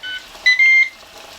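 A Ninja Dual Zone air fryer gives an alert to flip the food, a short sequence of electronic beeps with a longer steady tone in the middle, close and clear with no talk.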